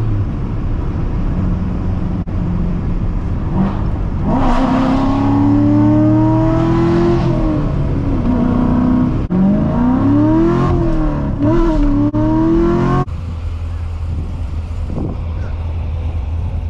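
A 2016 Chevrolet Corvette Stingray with a seven-speed manual gearbox is driven through a tunnel, its engine droning and rising in pitch through the gears with a loud, reverberant roar that carries on steadily throughout.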